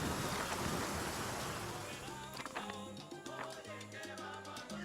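Rain in the video game Tropico 4: a dense wash of falling rain and rumbling storm that slowly fades as gentle game music with plucked notes rises alongside it.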